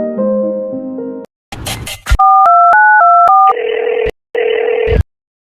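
A telephone gives out a sequence of loud electronic tones: a steady tone, a quick noisy burst, then a run of short alternating dialing beeps and a longer buzzing tone with brief gaps.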